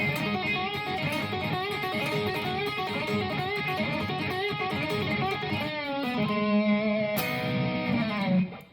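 Rock lick on electric guitar, a busy run of quick distorted notes moving up and down the neck with bends and sustained tones, played alone at moderate volume.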